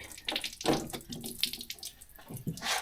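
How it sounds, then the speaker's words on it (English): Water splashing and trickling out through removed floor plugs of a Suzuki Samurai, an irregular close gurgling flow with bursts of louder splatter. "Nice to be able to remove these little plugs here and let that drain"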